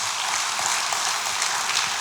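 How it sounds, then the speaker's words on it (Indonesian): A church congregation applauds for Jesus. The claps are dense and loud, keeping an even level through the brief burst. "Yang percaya berikan tepuk tangan buat Tuhan Yesus"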